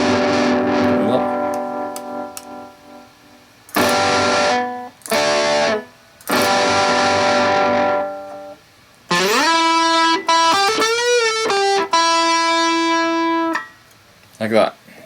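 A distorted Hondo Formula I Series Warlock electric guitar plays sustained chords and bent notes in bursts separated by short silences, loud and close.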